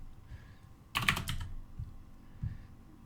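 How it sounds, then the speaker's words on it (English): A computer keyboard is typed on as a name is entered, giving a short quick cluster of clicking keystrokes followed by a few isolated taps, quiet and close with no talk. "I'm going to type a random name, Johnny Quid."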